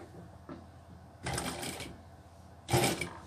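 A high speed sewing machine stitches a gathered shoe upper in short bursts: a brief faint run, then two louder close whirring stretches of rapid needle clatter separated by a pause.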